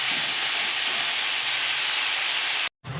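Water poured into a hot pan of fish curry gives a loud, steady, broadband sizzling hiss held close for nearly three seconds before cutting off abruptly.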